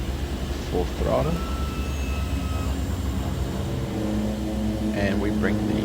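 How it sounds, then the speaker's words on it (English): A DHC-6 Twin Otter turboprop in the MSFS 2020 game runs its left engine at full throttle during a run-up, giving a steady, loud droning hum with layered tones throughout, while brief voice sounds break in near the start and end. "Now the left engine, full throttle."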